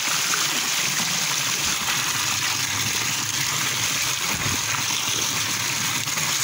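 Icy cold spring water pours continuously from a village fountain in Doğanşar, Sivas, making a loud, close, unbroken rushing flow.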